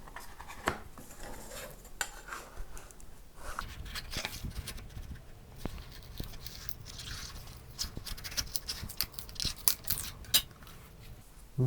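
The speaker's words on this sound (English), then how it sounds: "I'm now going to ever so gently peel this off the MDF" A headstock veneer template is peeled gently off MDF during an ES-335 style guitar build in a workshop, giving faint, close, intermittent crackles and small ticks over several seconds with no talking.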